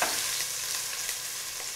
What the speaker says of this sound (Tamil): இப்போ இஞ்சி பூண்டு விழுத போட்டு இஞ்சி பூண்டோட பச்சை வாடை போற வரைக்கும் நல்லா